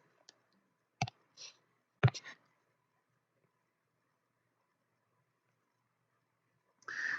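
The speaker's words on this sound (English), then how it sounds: "let me move my ruler on down here." A ruler is moved and set down on a sketchbook, making a few sharp, quiet taps and brief scrapes separated by silence. A longer rustle follows at the end.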